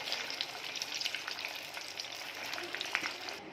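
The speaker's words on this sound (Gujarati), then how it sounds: "આ જ રીતના બધા બીજા કટલેસ તળી લઉં છું" Cutlets deep-frying in hot oil, a steady dense sizzle and crackle that stays close and even throughout, with no talking.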